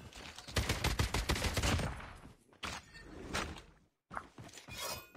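Rapid bursts of automatic gunfire in Call of Duty Mobile, a dense run of shots for over two seconds, then shorter clusters of firing after brief pauses, loud and close with no talking.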